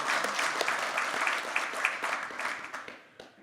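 Audience applause at a talk concert for Vietnam War veterans and bereaved families, many hands clapping briskly, then tapering off and fading toward quiet.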